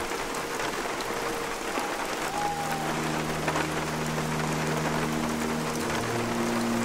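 Steady, dense rain falls throughout a Hunter: Call of the Wild game scene, a constant hiss of drops with a low hum and a faint tone joining partway through.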